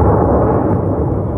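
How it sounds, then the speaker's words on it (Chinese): Loud, rumbling bursts of anti-aircraft gunfire and artillery fill the night over Kyiv during a Russian drone attack, a dense continuous roar that cuts off abruptly. "随后就传来一阵阵枪炮声"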